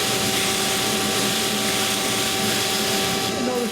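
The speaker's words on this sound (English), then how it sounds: "I like to use my flat sander over here that's attached to my sand flea." A flat sander mounted on a Sand Flea drum sander works a small wooden scroll-saw ornament, giving a steady, loud, continuous whirring hum with no breaks for the few seconds heard.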